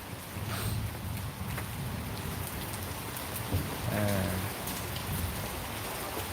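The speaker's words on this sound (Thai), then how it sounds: "มากับสายฝนครับ สายฝนตลอดทางนะครับ" Steady rain falls on a cold day in Nan, Thailand, a soft even patter on surfaces that continues throughout at low level, with a faint distant rumble briefly surfacing underneath.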